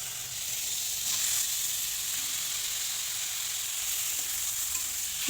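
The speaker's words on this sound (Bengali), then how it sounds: "দিয়ে মশলাগুলো ভেজে নিয়ে জল ঝরিয়ে রাখা কচু শাকগুলো দিয়ে দেব" Ground spices, turmeric and cumin among them, frying in hot oil for a taro leaf curry, giving off a steady, even sizzle and hiss close by with no talking.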